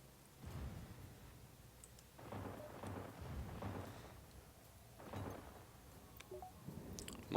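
A plasma storm in a space game rumbles in deep rolling swells, three or four surges of low roar rising and fading over a quiet hum, with a faint click near the end.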